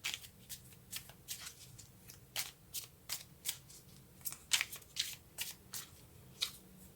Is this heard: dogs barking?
no